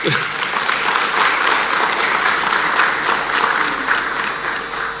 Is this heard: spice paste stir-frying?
no